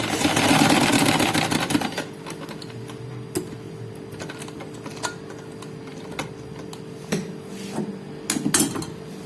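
A sewing machine stitches fabric for a garment's round-cut sleeve and neckline design, running in a dense burst for about two seconds, then falling to sparse, quiet clicks and handling taps.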